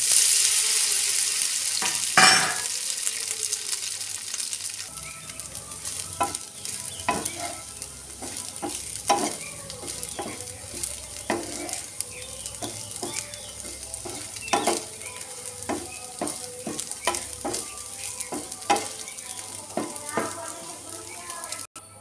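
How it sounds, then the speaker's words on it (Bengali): Soybean chunks fry in hot mustard oil in a pan, crackling and sizzling up close while a spatula clicks and scrapes against the metal again and again in quick, irregular strokes. "এবার তেলটা গরম করে নিয়ে সয়াবিনটা এর মধ্যে ভেজে নেব।"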